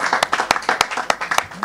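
Close, brisk clapping from an audience at a Paris conference, sharp claps landing in a quick, uneven rhythm for under two seconds.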